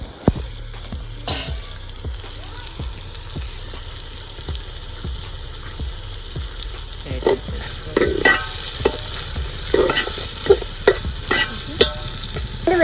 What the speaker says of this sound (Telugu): కట్ చేసి పెట్టుకున్న ఉల్లిపాయ ముక్కలు కూడా వేసుకుందాం. వేసుకున్న తర్వాత గోల్డెన్ కలర్ వచ్చే వరకు ఫ్రై చేసుకుందాం.